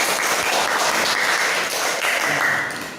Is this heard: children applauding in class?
yes